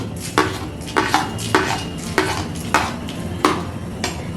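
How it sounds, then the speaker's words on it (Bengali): Fennel and cumin seeds with panch phoron dry-roasting in a hot pan, a spoon scraping and clinking against the metal in a regular stirring rhythm, about six sharp taps over a faint continuous rustle. "এখন সমস্ত কিছু শুকনো খোলায় 2 মিনিটের মতন ভেজে নেব।"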